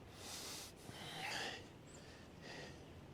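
Close, soft breathing with a couple of airy snorts and huffs, quiet and unhurried, with no talking.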